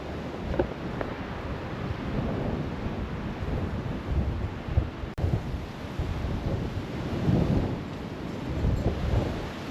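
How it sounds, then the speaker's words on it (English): Strong wind buffets the microphone outdoors in gusty, rumbling bursts, loud and continuous with a sharp knock midway, and nobody speaks. "It's another day and it is windy. It's actually horrible."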